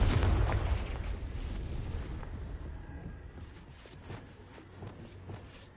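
A Confringo fire spell in the video game Hogwarts Legacy bursts with a loud, close boom at the start that rumbles and fades over several seconds, followed by faint crackles and small pops.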